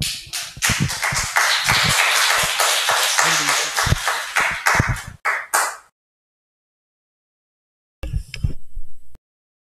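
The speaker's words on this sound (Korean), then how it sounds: "나오실 때 큰 박수 부탁드리겠습니다" Congregation applause at a Seoul church worship service as a regional association leader comes forward, dense close clapping for about six seconds that cuts off, then a short second burst after a pause.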